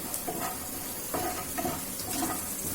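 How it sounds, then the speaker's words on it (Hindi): Food sizzling in ghee in a pan during breakfast preparation, a steady close crackle with a few brief stirring scrapes and utensil knocks, no talking. "अभी हम उसको 5 मिनट तक इसको ऐसे घी में थोड़ा सा भूनेंगे,"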